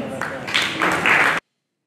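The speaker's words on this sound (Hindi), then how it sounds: "जोरदार तालियों से स्वागत करेंगे सुश्री संस्कृति का" An audience claps to welcome a student speaker onto the stage, a short burst of applause that swells slightly over about a second and a half before cutting off abruptly to silence.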